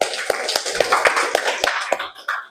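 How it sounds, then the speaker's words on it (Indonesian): A school class claps hands together in a quick, fairly even series of claps, close and moderately loud, with the rhythm loosening toward the end. "Tepuk tangan dulu semua"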